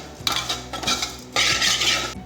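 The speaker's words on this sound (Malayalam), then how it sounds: "ഇതും കൂടി ഇട്ട് ജസ്റ്റ് ഒന്ന് പച്ചമണം പോകുന്നവരൊന്ന് സോട്ട് ചെയ്തെടുക്കുക" A spatula scrapes and stirs grated coconut being sautéed in a pan for a roasted prawn curry, in three scraping bursts, the last one longer, with no voices.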